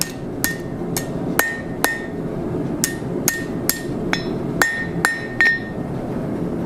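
Ringing hammer blows land on hot steel roughly a dozen times while forging a spring swage, mostly evenly spaced with a few quick double strikes, loud and close.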